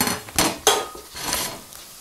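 Plates and dishes clatter as they are set out for serving squid, a few sharp, close clinks and knocks with quieter handling between them.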